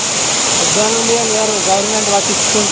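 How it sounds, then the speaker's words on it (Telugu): A large waterfall near Kuntala Falls in Telangana roars steadily and evenly throughout, filling the background while a person talks over it in the foreground. "కానీ వాటర్ ఫాల్ బాగుంది"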